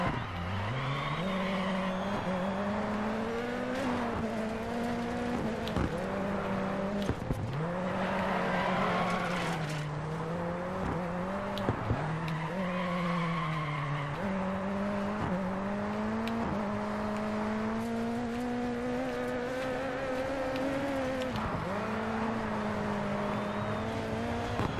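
Rally car drifting in DiRT 4 on a Swedish Rallycross track, the engine droning and revving up and down continuously with repeated tire squeals and skids through the corners, loud and sustained throughout.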